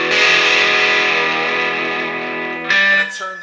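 PRS SE CE 24 electric guitar on a pickup with a little dirt, tone knob near halfway, ringing out one sustained, lightly distorted chord that slowly fades, then a brief scrape or pick sound near the end.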